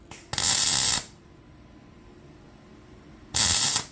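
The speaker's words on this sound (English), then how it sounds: "I'm welding on straight up dirt right now." An HTP welder tack welds a silencer on a dirty surface, making two short bursts of loud crackling, hissing arc noise, each about half a second long, separated by quiet.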